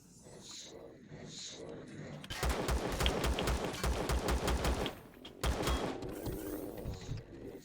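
Rapid automatic gunfire in a video game, a dense burst of repeated shots lasting several seconds with a short pause and a second burst, preceded by softer game noises and a voice speaking.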